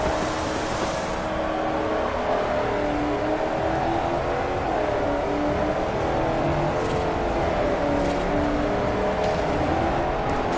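A Corvette races in the Forza Horizon video game, its engine holding a steady, continuous roar with road noise for the whole stretch and no talk over it.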